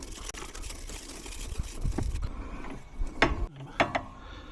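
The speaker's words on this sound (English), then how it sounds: "Let's like tap up the top here. M6 thread grease nipple." Hand-tapping an M6 thread for a grease nipple, on a Toro Time Master mower bail-control conversion: close metallic ratcheting clicks and turning scrapes, uneven, with a few sharper clinks near the end.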